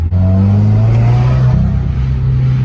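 A turbocharged Subaru WRX engine revs up close, with a loud, steady droning hum that shifts slightly in pitch partway through.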